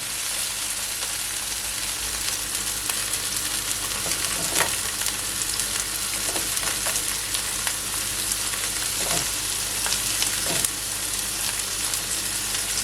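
Sweet pepper frying in a hot pan with steady, loud sizzling throughout, plus a few brief clatters of stirring.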